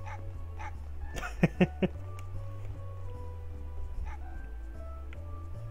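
Dog barking in the video game Mega Man Legends: three short, sharp barks in quick succession over a steady low game hum, with faint fainter yips around them and a person laughing.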